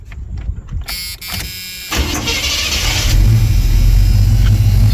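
A Chevy V8 with a Holley carburetor cranks on the starter for a couple of seconds, catches, and settles into a loud, rising rev that then holds at a steady roar, close up.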